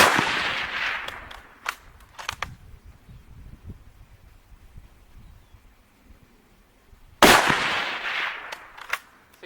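Rifle shots fired at jugs 245 yards away with Romanian surplus ammunition, two sharp loud cracks, one at the start and one near the end, each trailing off into a rolling echo in an outdoor setting.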